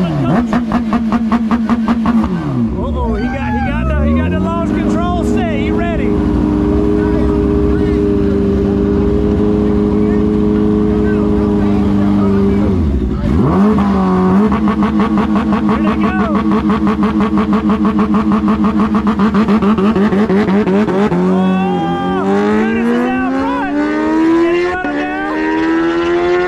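Kawasaki H2 motorcycle launching at a drag race, its engine revving loudly with rising, shifting pitch that drops and climbs again through repeated surges, close and continuous throughout.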